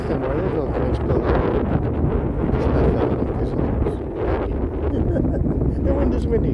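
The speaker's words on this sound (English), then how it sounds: "The wind is windy." Strong wind buffets the microphone on the beach beside Santa Monica Pier, a constant low rumbling roar with gusty surges throughout.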